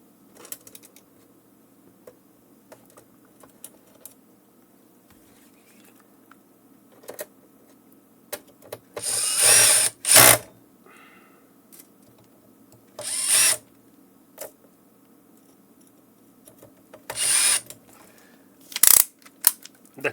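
Power drill driving three screws into the motherboard of a Clear-Com HelixNet HMS-4X intercom, the clutch set low: three short whirring bursts with pauses of quiet handling and small clicks between them, close and alone.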